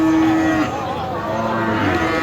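A cow at a cattle market moos in one long, low, drawn-out call that lasts the whole moment, loud and close, with no talking.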